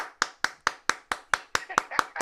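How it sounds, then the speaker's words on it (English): Crisp, evenly spaced hand claps on a radio morning show, about ten sharp close claps in a steady beat that grows slightly busier toward the end. "Let's clap for that."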